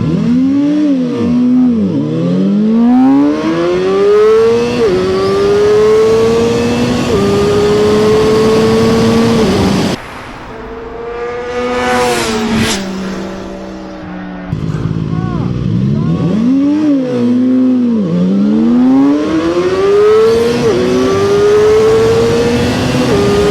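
A ZXJC 500RR sport motorcycle launching and accelerating hard in a drag-style race against a 675, engine rising through the gears with loud rising whines, a pass-by burst midway, then renewed hard acceleration.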